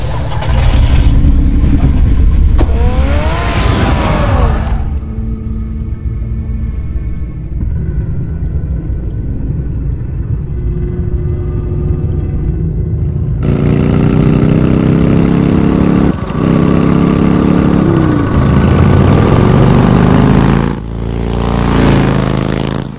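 Batmobile engine in the Batman Telltale game rumbling and revving, a loud steady low drone with rising revs, then a second surge of revving later, with no talk over it.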